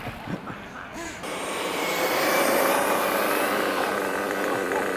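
A nitro RC car engine runs near full throttle, a loud, sustained high-pitched buzzing whine that swells after the first second and holds steady to the end.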